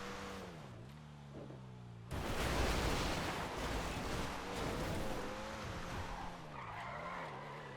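Tires of a Comet Safari, a rally car modelled on the Porsche 911 Safari, skid loudly in GTA V, a broad hiss of scrubbing rubber cutting in over the steady engine drone and carrying on for several seconds.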